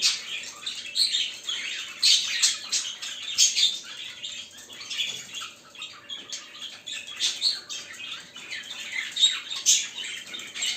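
Paired show birds (canaries) courting in a cage, a steady stream of busy chirps, squawks and tweets that runs on close by for the whole stretch, shrill and bright with no talking.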